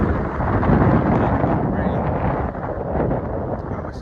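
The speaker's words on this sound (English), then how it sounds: "yeah, it's windy out here" Strong wind gusts across an outdoor practice field in PG County, Maryland, roaring and buffeting the microphone in a constant, loud rumble.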